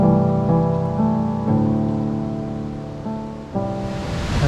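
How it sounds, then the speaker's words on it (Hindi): Kalu waterfall near Mumbai in the monsoon, heard as a steady, loud broadband rush of falling water with no voices over it. "कालू वाटरफॉल की क्रेजी आवाज़ आ रही है, ये जो पानी नीचे गिर रहा है कितने फोर्स से जा रहा है।"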